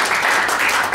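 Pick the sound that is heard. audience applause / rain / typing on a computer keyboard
audience applause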